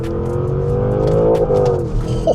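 A Porsche Cayenne GTS Coupe engine revs hard after a downshift, a loud close rising growl from inside the car with a few quick throttle swells.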